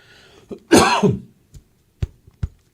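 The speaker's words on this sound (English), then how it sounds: "This cough has been lingering for the last week" A single harsh, close cough from a week-long lingering cough, followed by a few soft clicks and small mouth sounds in an otherwise quiet room.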